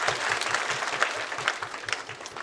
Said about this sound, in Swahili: Alafu jipigie makofi.